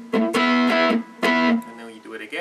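Distorted electric guitar plays the re-intro part of a song: a few sustained, gritty notes in a stop-start phrase, loud and close, tailing off at the end.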